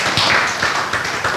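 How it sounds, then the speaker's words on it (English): An audience at an English-language moral education class gives a loud round of applause, a close, dense burst of many hands clapping with no talk over it. "let's give him a round of applause"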